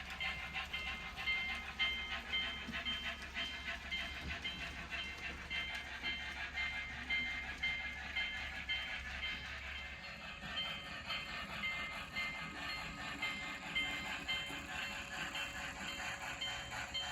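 HO scale model train running on the hidden trackage of a 1955-era Sierra Railroad home layout, a steady rolling rumble with faint rail clatter that holds evenly for the whole stretch, no voices over it.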